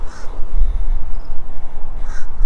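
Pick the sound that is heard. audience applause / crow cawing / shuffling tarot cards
crow cawing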